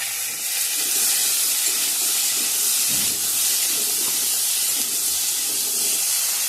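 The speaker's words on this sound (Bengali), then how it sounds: "সয়াবিনটা ভেজে রাখছি।" Soybean chunks fry in a pan on a home stove, a steady, close, loud hiss of hot oil holding evenly throughout with faint soft clinks underneath and no voices.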